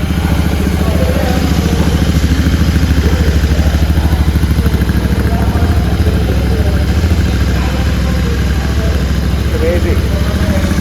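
A Royal Enfield Continental GT 650 motorcycle runs close and loud, with a steady, throbbing twin-cylinder exhaust note that carries through the whole stretch.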